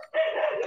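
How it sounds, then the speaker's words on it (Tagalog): A single short, tonal dog bark or yelp, close and loud, lasting under a second. "Tumatahol na."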